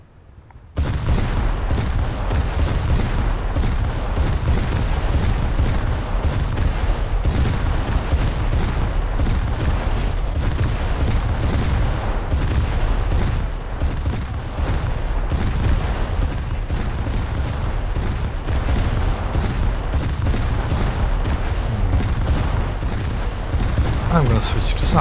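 Warship guns firing in a naval video game, a dense continuous barrage of heavy booming shots with loud rumbling low end, sustained without pause and no voice heard over it.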